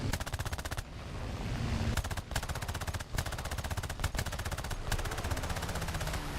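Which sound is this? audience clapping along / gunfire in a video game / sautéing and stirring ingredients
gunfire in a video game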